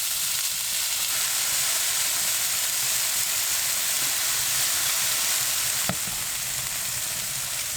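Potatoes frying in olive oil inside a wood-heated winter camping tent make a steady, dense sizzle that continues throughout. It is close and loud, with one brief knock near the end and no voices.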